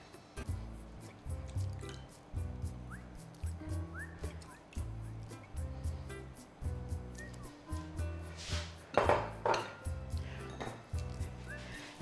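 Water is sprinkled by hand over a tomato pie made with ready-made pastry, giving soft, scattered drips and splashes in a quiet kitchen, with a faint repeating musical backing underneath.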